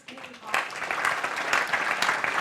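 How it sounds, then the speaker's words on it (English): Applause for panel workshop leaders at a data-for-good conference builds quickly after a brief voice, then holds as steady, moderately loud clapping from a sizable crowd. "Let's give a round of applause."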